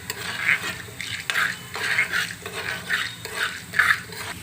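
Cumin seeds crackle and sizzle in hot oil for gunta ponganalu, a steady fry broken by repeated stirring scrapes roughly every half second, close and moderately loud.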